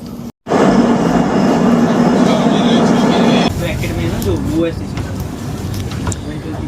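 Jammu Tawi Express train just pulling away after a long halt, heard from inside as a steady loud rolling rumble that shifts to a lighter clatter partway through, with people talking over it.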